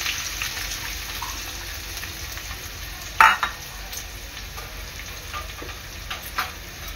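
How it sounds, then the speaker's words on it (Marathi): Bay leaf and finely chopped onion drop into hot oil for a crab masala, giving a steady close sizzle with a sharper clatter partway through and light stirring scrapes. "तेल चांगलं गरम झालेलं आहे। यामध्ये टाकणार आहे मी तेजपत्ता आणि बारीक चिरलेला कांदा।"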